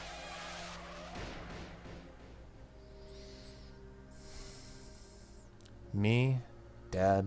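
Tires skid and screech in a horror video game's car accident scene, with short swelling squeals near the end and a low, murky background underneath.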